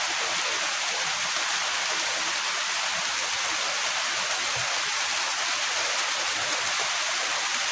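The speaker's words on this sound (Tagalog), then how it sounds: "May ulan guys oh" Steady rain pours down outdoors at night near a hut, a dense, even hiss filling the whole stretch without pause and no voices over it.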